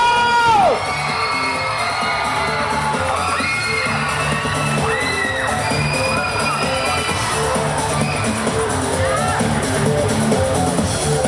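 Crowd at the Komchadluek Awards cheering, whooping and shouting as young lead actors come up, a loud continuous roar with high yells throughout and voices mixed in.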